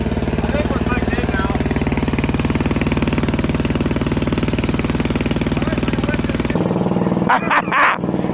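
A CAT D8 dozer's diesel engine, not run in decades, turns over with a loud, steady, throbbing rumble. It cuts out near the end, leaving a few brief clanks and knocks.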